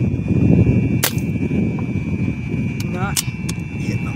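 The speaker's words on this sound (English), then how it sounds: "we're gonna take a shot at the one on the right, shooting on high power" A Brocock Concept Lite .22 PCP air rifle fires a high-power shot outdoors at an iguana about 30 yards away, a sharp crack rising from a constant low background rumble and hum.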